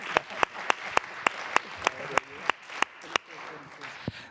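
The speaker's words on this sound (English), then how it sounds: "How about an applause for the under 35 crowd?" An audience applauds at a Hurricane Sandy anniversary event on resilience and climate justice: a steady wash of clapping, punctuated by loud, regularly spaced claps from someone nearby, fading toward the end.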